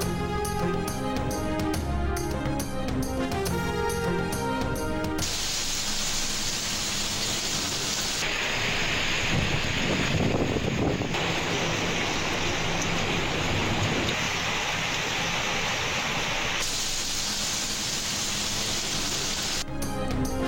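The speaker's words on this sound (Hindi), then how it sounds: "इस्लामाबाद और पंजाब के मुख्तलिफ शहरों में मूसलाधार बारिश।" Heavy torrential rain in Islamabad and Punjab pours in a dense, continuous roar. Loud, steady wash of rainfall that shifts in texture partway through, with some musical tones at the start and end and no speech.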